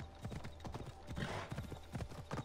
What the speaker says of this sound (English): We'll take the horse.